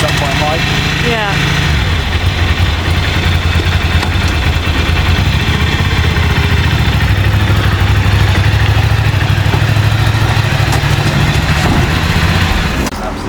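Ducati motorcycle engine held at an enthusiastic fast idle, a steady loud continuous rumble with a low hum that lifts slightly after the first seconds and stays even throughout, with people talking faintly underneath.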